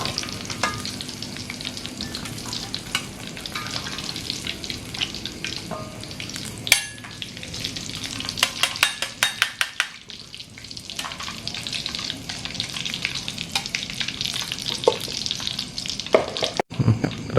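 Jengkol fries in hot oil with a dense, steady crackle and sizzle, close up, broken by a few sharp pops and spatters and some stirring clatter, with no talk.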